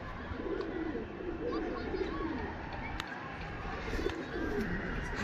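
Pigeons coo softly and repeatedly in low, rolling murmurs against a steady background hum.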